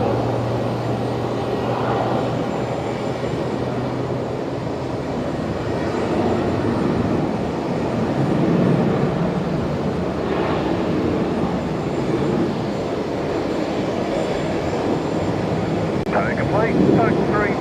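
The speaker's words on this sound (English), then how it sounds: "Next departure here, Velocity 990 heading down to Sydney." A Velocity airliner departs Brisbane Airport for Sydney with a steady, distant jet roar that holds for the whole stretch, with a voice talking over it.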